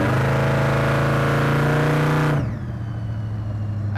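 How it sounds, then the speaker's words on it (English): A 1931 Ford Model A street rod accelerates hard, its engine note climbing steadily and loud for about two seconds, then dropping abruptly to a lower, quieter idle-like rumble as the throttle lifts. "We'll test out the go pedal now."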